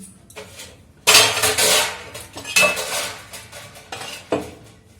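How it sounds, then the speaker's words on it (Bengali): Plates, pots and metal utensils clatter and clink as they are stacked and put away in a home kitchen, several loud bursts of clanging separated by brief pauses, close by with no talking. "এই যে থালা বাসনগুলো যটা লাগবে রাখবো"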